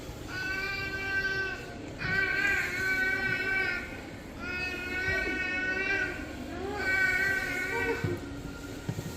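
A small cat meows repeatedly, about four drawn-out cries spaced roughly two seconds apart, fairly close and clear over a faint background.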